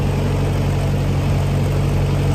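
A 1956 Massey Ferguson MH50 tractor engine runs with a loud, steady low rumble and even droning throb, close by and without talk.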